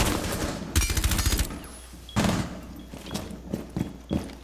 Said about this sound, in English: He just shot at us.